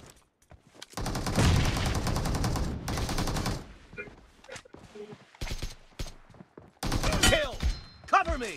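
Bursts of automatic gunfire in PUBG Mobile, loud and close: a long rapid volley, a second shorter burst, then scattered single shots and a final flurry, with a player speaking between them.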